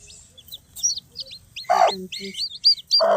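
Newly hatched chicken chicks give high, thin peeping chirps, several close together in short bursts, with lower soft hen clucks mixed in nearby.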